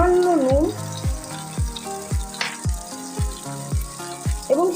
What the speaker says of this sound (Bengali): সামান্য একটু লঙ্কা গুঁড়ো দিয়ে ভেন্ডিটা হালকা করে ভেজে নেব